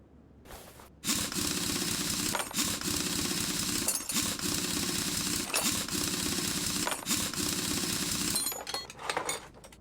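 Tires coming off a car in Car Mechanic Simulator, a loud, continuous rattling impact-wrench whir lasting several seconds with brief dips, then tapering into scattered clicks.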